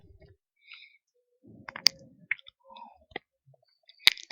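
Mouse clicks while working in MikroTik router configuration software, a few sharp, close clicks spread out and separated by quiet gaps, with faint low background noise.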